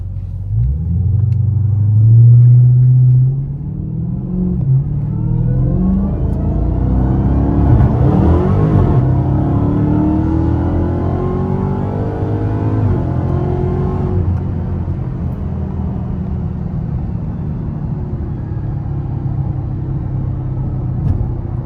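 A Dodge Challenger Hellcat Redeye with a new drive shaft bearing accelerates hard in sport mode, a loud, deep engine rumble rising through the revs and shifting, heard from inside the car for over twenty seconds.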